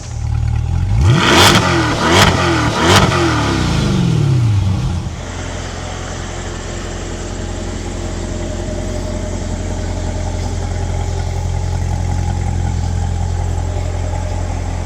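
A Chevrolet C8 Corvette Z51 blips its engine in three loud, rising revs up close, then settles into a steady, rumbling drive-off that stays strong and constant.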